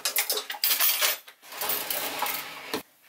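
Metal kebab skewers clink and rattle as they are handled and set down in a home kitchen, a quick run of close, bright metallic clatter with a sharp final knock.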